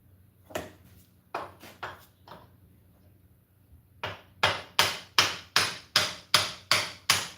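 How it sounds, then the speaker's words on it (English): A light metal hammer taps a wooden tomahawk handle: a few sparse, uneven knocks at first, then a pause, then a steady run of about nine sharper, louder taps in an even rhythm, close by with no talking. "Light tapping."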